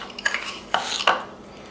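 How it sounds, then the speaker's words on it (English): A spoon clinks and scrapes in a bowl while working a turkey burger mixture into bread crumbs, giving three distinct close contact taps with soft mushing between them. "start mushing it in to the crumbs with a spoon"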